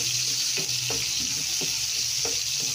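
Garlic sizzles steadily in a hot pan for a pork adobo dinner, a continuous close frying hiss broken by a few soft scrapes of stirring.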